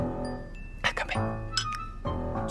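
Glasses clink together in a toast over a home breakfast of juice, a few bright chimes standing out against a low background hum.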